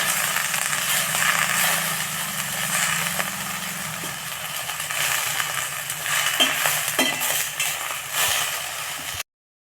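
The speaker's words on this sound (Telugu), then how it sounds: "ఇది బాగా మెంతాకు వేగాలి వేగితేనే ఇది లేదంటే చేదు వస్తుంది" Fenugreek leaves frying on a low flame for Karnataka-style donne biryani, a continuous soft sizzle with occasional stirring scrapes, close and steady throughout.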